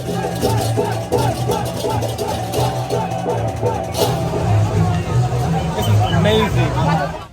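A crowd at a night Ogoh-ogoh parade in Bali fills the air with dense babble, chanting and cheering, a steady loud mass of voices with rhythmic shouted bursts.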